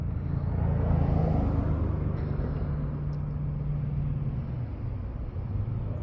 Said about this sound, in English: Excuse the noise, people. I live on a busy street,